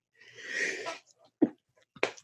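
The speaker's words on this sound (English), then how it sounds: "about to sneeze" A single sneeze bursts out with a breathy intake, followed by two short sharp sniffs or snorts close to the microphone.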